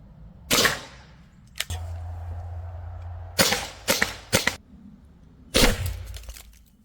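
Prepared 2 Protect Secure 68P launcher firing kinetic rounds: several sharp, loud pneumatic cracks, one early shot, then a quick burst of three and a final shot, with a steady low hiss between them.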